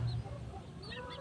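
Backyard chickens and fighting roosters cluck in a short burst of several soft, close calls over quiet ambience.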